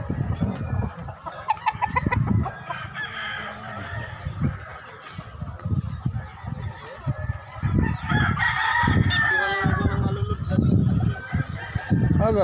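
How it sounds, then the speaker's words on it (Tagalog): Chickens clucking and roosters crowing at a Filipino backyard chicken farm, a dense busy flock with repeated crows rising over steady clucking and squawks, fairly close and continuous. "Ayun yung manukan namin sa dulo na."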